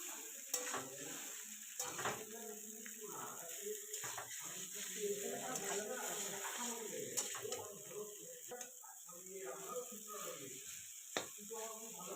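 Raw chowmein noodles stirred in a frying pan with turmeric and salt, giving a faint, hissing sizzle with soft scrapes and knocks of the utensil, under a quiet voice talking.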